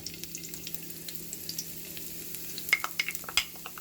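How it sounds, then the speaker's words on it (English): Garlic fries in hot oil in a hot pan, a faint, quiet sizzle with scattered small pops that grow a little denser and sharper toward the end. "we're gonna start off with a hot pan. Garlic and oil mixed together."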